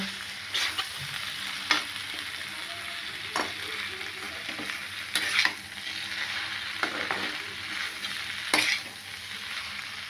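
Potatoes and bitter gourd sizzle with spices in a pan, a steady low frying hiss broken by several sharp scrapes and clatters of stirring at irregular intervals.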